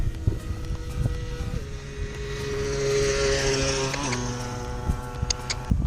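A motorcycle passes during a walk toward a village, its engine drone building to a louder middle and then shifting pitch as it goes by, with rustling and small knocks near the microphone.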